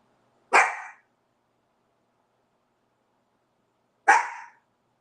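A dog barks twice, with single sharp barks spaced about three seconds apart, fairly close and clear against a quiet indoor background with no talk.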